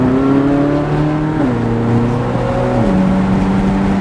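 A C8 Corvette Z06 pulling hard on Nashville Superspeedway, its engine a loud sustained rising whine heard from inside the car, with upshifts dropping the pitch twice.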